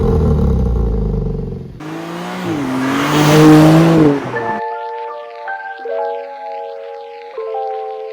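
Engine of a 2023 BMW M2 with a 460-horsepower straight-six climbs in a loud revving sweep and drops off, then a series of electronic chime-like tones follows; no speech.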